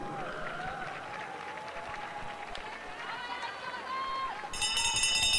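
A crowd cheers and roars steadily for two female short track speed skaters in a 1500m race at a Canadian Olympic trials arena, with a French-speaking announcer talking over the noise and a bell ringing at the end.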